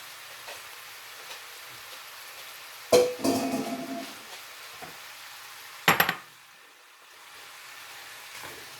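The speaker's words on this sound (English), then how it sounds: "So I'm going to stir and cook until you actually start to see them and feel them soften." Apples stirred in a hot pan for an apple pie filling: two distinct scraping, sizzling bursts of stirring stand out near and clear over a soft steady cooking hiss, with quiet gaps between them.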